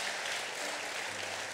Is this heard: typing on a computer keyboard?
no